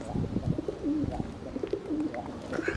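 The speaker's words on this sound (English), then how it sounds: "Oh, some more pigeons coming down." Pigeons at a home loft coo steadily on a cold day, with low, soft, repeated throaty calls overlapping, close and continuous, and a faint chirp near the end.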